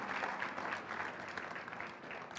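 Church congregation applauding at a teaching service in Mexico, a steady, moderately distant wash of clapping from many hands filling the whole short moment, without a clear voice on top.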